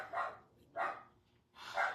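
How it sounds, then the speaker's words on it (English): Dogs barking indoors nearby, three separate muffled barks spread over two seconds, moderately loud with quiet gaps between and no talking. "The dogs have been nonstop today as well."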